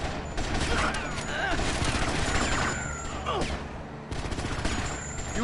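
Rapid bursts of gunfire in the video game Grand Theft Auto: Vice City, dense continuous shooting with booming impacts filling the whole stretch, loud and close.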